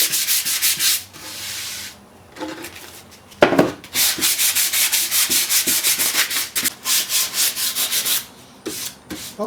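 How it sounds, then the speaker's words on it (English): Close, rhythmic rubbing strokes of 220-grit sandpaper worked by hand over a wooden part of a 1930s Zenith table radio, steady back-and-forth passes after a brief opening pause, with no talking. "next we'll take some sandpaper. This is 220 and I'm just going to finish it off."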